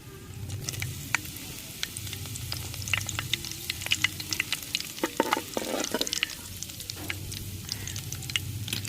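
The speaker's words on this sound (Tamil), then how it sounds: "எண்ணெய் சூடாயிருச்சு. நம்ம கடுகு சேர்த்துக்குருவோம்." Mustard seeds and curry leaves sizzle and crackle in hot oil for a fish head curry, a steady low frying hiss with scattered sharp pops and spatters, close and fairly quiet.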